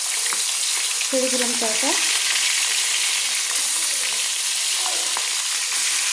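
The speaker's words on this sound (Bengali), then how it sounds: "তেলের উপর ছেড়ে দিচ্ছি ম্যারিনেট করা মাছগুলো" Pieces of marinated silver carp fry in hot oil with a loud, continuous, close sizzle. A voice speaks briefly over the frying.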